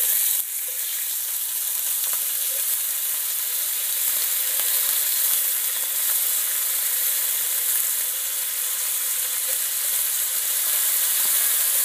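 Meat for rouladen sears in a hot pan, giving a loud, continuous, even sizzle that holds steady from start to finish, close up with no voices.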